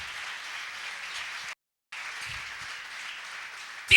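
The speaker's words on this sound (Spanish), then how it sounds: "Vamos a regalarle una ofrenda de palmas al Dios de la gloria" A church congregation applauds in an offering of praise, a steady wash of many hands clapping, briefly cut to silence midway before resuming at an even level.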